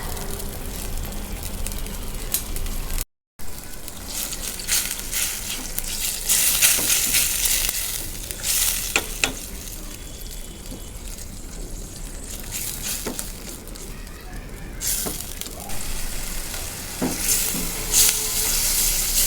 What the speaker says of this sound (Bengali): আমি মশলাগুলো খুব ভালোভাবে কষিয়ে নিয়েছি